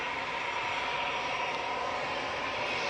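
An EasyJet airliner passes overhead with a loud, steady jet roar that holds evenly through the short stretch, with no voices.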